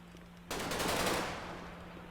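Gunfire erupts in Garry's Mod during a SWAT roleplay raid, a sudden, loud, rapid burst of automatic shots that starts abruptly after a quiet hum, then tails off into a lingering echo.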